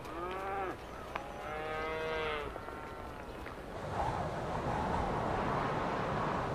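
Ranch cattle moo several times in long, drawn-out calls, fairly close and clear, followed by steady outdoor ambience with wind or rustling noise.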